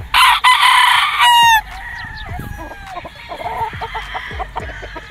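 A local banded battle stag gamefowl crows loudly and close for about a second and a half, a sustained crow ending in a rising break, followed by softer clucks and scattered farmyard bird calls.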